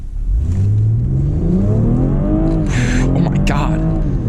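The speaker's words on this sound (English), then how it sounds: "Put this thing in drive. And then let's do a little 0 to 60." A 2020 BMW X3 M40i accelerating hard from a standstill in a 0 to 60 run, the engine note climbing loudly through rising revs with a brief gear-change dip, heard from inside the cabin as a person talks over it.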